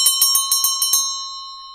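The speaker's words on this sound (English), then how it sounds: "3:30 New York Stock Exchange, the bell was rung." Closing bell at the New York Stock Exchange rings in a rapid series of about seven bright metallic strikes over a sustained tone, then a clear ringing decay fading out, alone with no voices.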